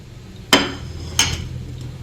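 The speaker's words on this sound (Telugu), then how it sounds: "క్యాషూ నట్స్, దాల్చిన చెక్క, లవంగాలు 2, ఇలాచీ, స్టార్ ఫ్లవరు, బిర్యానీ లీవ్స్ అన్నీ హోల్ గరం మసాలా వేసుకుంటున్నానండి" Whole garam masala spices (cashews, cinnamon, two cloves, cardamom, star anise, bay leaves) dropped into a pan for biryani, two sharp clattering impacts about half a second apart over a low steady background hiss.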